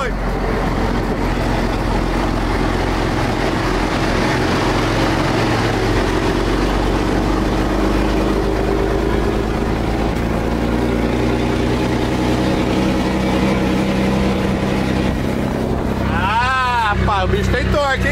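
Truck engine pulling hard under load in seventh gear, a loud steady low drone with grinding rumble that runs the whole time, brief speech at the end.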